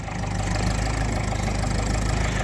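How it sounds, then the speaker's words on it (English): A Ferguson TEF20 workhorse farm tractor idles at close range before pulling away, a steady low diesel chug with a constant, slightly knocking rhythm and no voices. "Here we are, the TEF20 here. The workhorse tractor, just about to leave here"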